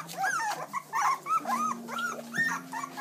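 Young puppies, newly wormed, whimper and whine in a rapid string of high, thin cries close by, with a faint steady hum underneath.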